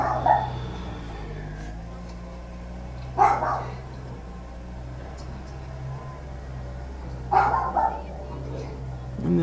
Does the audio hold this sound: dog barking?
yes